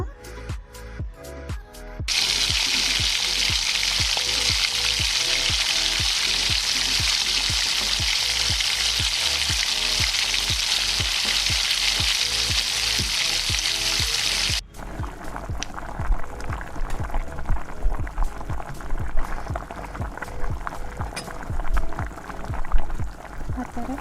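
Onion pakoda (bajji) frying in hot oil, a steady loud sizzle that drops suddenly partway through, followed by softer bubbling with scattered stirring clatter.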